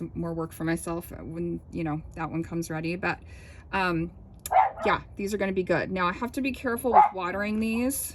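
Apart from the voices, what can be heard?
dog barking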